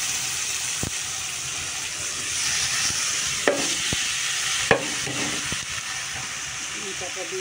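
Boiled, mashed banana flower goes into a pan of frying potatoes, hissing and steaming as it is stirred, with a few sharp knocks of the spoon against the pan over steady sizzle and faint background voices.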